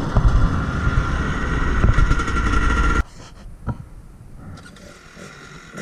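New motorcycles being ridden gently for break-in, a loud rumbling engine and wind roar close by for a few seconds, then dropping abruptly to a quieter, distant engine drone.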